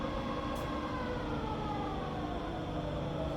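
A rebuilt Bridgeport milling machine runs steadily in low range, giving off a continuous dense mechanical hum and whine with layered tones. It holds constant, close and fairly loud, with no talk.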